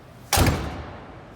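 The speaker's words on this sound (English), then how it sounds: "Driver's side door." The driver's side door of a 1976 Cadillac Eldorado Bicentennial shuts with a single solid thud that fades quickly, heard alone at a car dealership.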